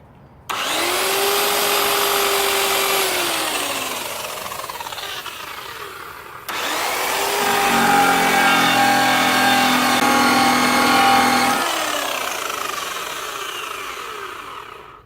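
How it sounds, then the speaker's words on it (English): An aluminum piece is buffed on a sisal polishing wheel loaded with coarse cutting compound, giving a loud, continuous motor whine with a gritty rasp that stops briefly midway and then resumes with a heavier grinding tone. "I'm going to use a cutting wheel combination, and that's with the Sisal polishing wheel and a coarse cutter"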